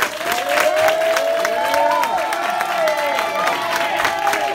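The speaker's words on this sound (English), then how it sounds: "I want you to give God the biggest hand praise and clap that you can give him" Church congregation clapping and cheering in praise, a loud continuous wash of applause mixed with raised voices and shouts close by.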